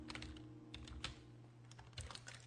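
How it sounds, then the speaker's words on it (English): Keys on a computer keyboard are tapped in a quick, uneven run of light clicks. The typing is faint and close, with a steady background hum underneath and no voice. "we're going to type wiggle"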